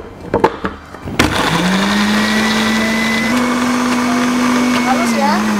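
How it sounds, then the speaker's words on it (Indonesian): After a few clicks and knocks, a kitchen blender starts up and whirs loudly and steadily, blending soup ingredients with a little oil, its motor pitch shifting slightly as the mixture churns. "baru kita blender"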